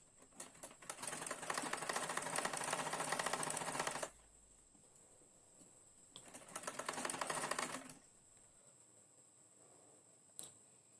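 A sewing machine stitching a blouse lining to its paper backing, a fast close mechanical chatter running in two steady bursts of several seconds each, with near silence between and a single click near the end.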